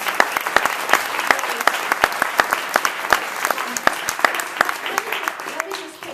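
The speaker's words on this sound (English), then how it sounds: "give another big round of applause" Applause rises from the crowd at a campaign finance reform event with two members of Congress, a sustained dense roar of clapping with crisp individual claps cutting through, steady and fairly loud before easing slightly at the end.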